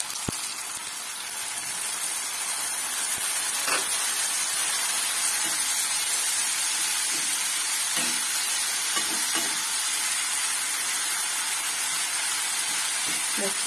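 Dry ground spices hiss and sizzle steadily in hot oil with sugar in a Bengali curry base, broadband frying noise held close and constant while a spoon scrapes and stirs at intervals.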